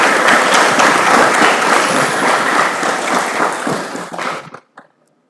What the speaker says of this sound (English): Let us welcome them with a thunderous round of applause.